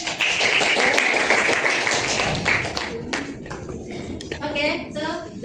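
A classroom of students claps steadily after a mathematics lesson. The dense applause fades after a few seconds, and voices continue over scattered claps.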